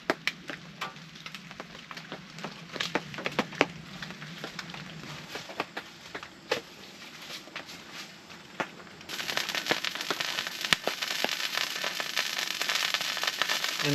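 A campfire at a cold-weather camp beside Big Piney Creek crackles with irregular sharp pops and snaps over a soft hiss, and the burning grows noisier and denser partway through.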